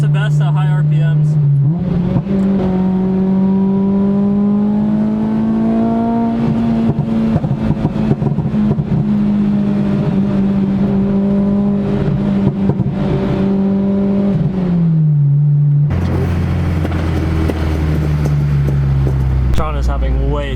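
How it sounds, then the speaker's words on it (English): Acura RSX engine revved hard at high RPM on the street with a loud exhaust, a sustained rising roar held for many seconds before dropping off, then another rev. "I'm gonna try to do super loud pops for them."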